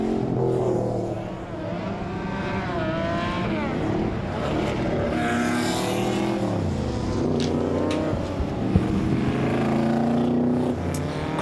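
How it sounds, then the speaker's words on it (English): Group S sports cars racing at Winton Raceway during a festival of speed, their loud engines revving and sweeping up and down in pitch as they pass, a continuous roar of several cars on track. "Group S cars on track now, and they always grab our attention, these magnificent sports cars from all over the world."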